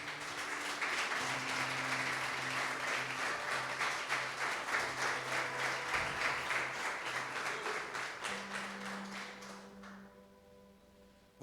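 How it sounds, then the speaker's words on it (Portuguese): Church congregation applauding together, steady dense clapping that fills most of the clip and fades near the end, with low sustained tones underneath. "Você pode dar uma salva de palmas para Jesus?"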